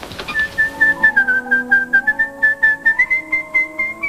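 A person whistles a clear, steady tune close up, with a rapid pulsing rhythm of short repeated notes held at a fairly even pitch.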